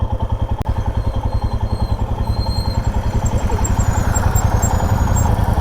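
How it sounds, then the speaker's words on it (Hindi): A 650cc motorcycle engine with a misfire problem runs close by, its uneven pulsing exhaust knocking steadily throughout with a rough, slightly irregular rhythm and no talk over it. "नितिन की बाइक में मिसिंग की प्रॉब्लम आ रही थी"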